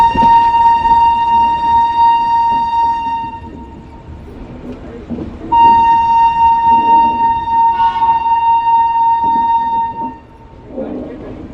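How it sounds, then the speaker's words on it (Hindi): A train rolls on rails into Ambala Cantt station, a loud steady rumble of wagons carrying a long sustained horn blast, then a second one midway, with the noise easing near the end. "10:55 हो चुके हैं और हमारी ट्रेन पहुंच चुकी है अम्बाला कैंट।"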